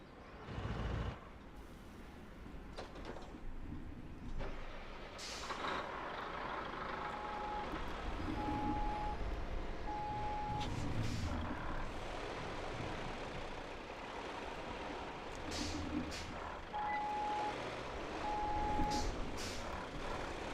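Heavy truck in the video game RoadCraft reversing, with repeated steady electronic backup beeps over a rumbling engine, accompanied by occasional hiss and clatter at moderate loudness.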